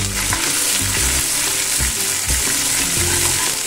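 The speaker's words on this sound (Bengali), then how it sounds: "মাছগুলো ভেজে নিই।" Amudi fish frying in hot oil in a pan makes a loud, continuous sizzle, broken by occasional clatters and scrapes as the pieces are stirred and turned.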